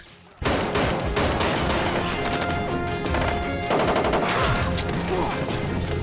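Rapid, dense bursts of automatic gunfire ring out from a TV superhero action series, starting abruptly after a quiet moment and continuing loud and sustained, with layered shots and echoes throughout.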